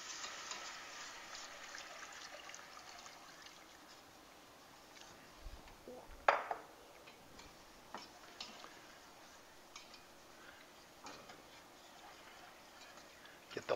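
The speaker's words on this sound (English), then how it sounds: "we're going to whisk in 2 cups of milk" Milk whisked into a cheese sauce base for pretzel bites makes a steady faint ticking and tapping of a whisk against the pan, with a soft pour-like swish midway and low background hiss throughout.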